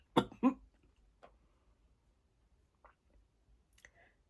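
Two quick throaty coughs up close at the start, followed by faint clicks and small mouth noises in a quiet room.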